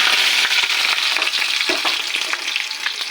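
Hot oil crackles and sizzles steadily in a kadai, a dense bright hiss with small pops, close up and uninterrupted, just before kamranga beans go in.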